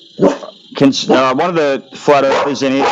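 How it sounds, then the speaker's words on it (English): A pet dog barking indoors during a live online voice chat, sharp repeated yips close to the microphone, overlapping someone talking loudly. "that's my dog barking."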